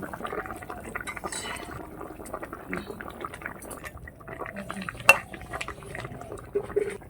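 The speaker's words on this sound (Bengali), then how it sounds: "এইবার পরিমাণ মতন জল দিয়ে দিচ্ছি এখন মাছটা দিয়ে দিচ্ছি" Water is poured into a pan of curry with catla fish and taro, with liquid splashing and a utensil clink near the midpoint; the sound is fairly close and moderate, with no talking.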